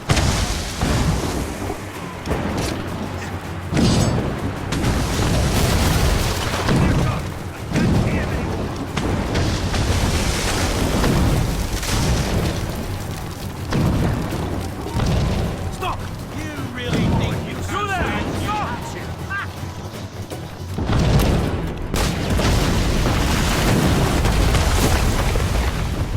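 Heavy cannon fire booms repeatedly during a naval battle in Assassin's Creed Rogue, deep rolling blasts sounding over continuous game noise while voices shout throughout.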